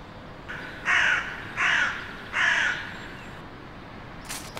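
Hooded crows give three loud, harsh caws in an even rhythm, each about half a second long, close by against a quiet outdoor background.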